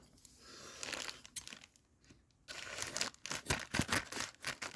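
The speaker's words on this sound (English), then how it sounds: "Yeah, we'll just use the scissors." A package is cut open with scissors, giving soft crinkling and tearing of plastic wrapping in short bursts, close and quiet.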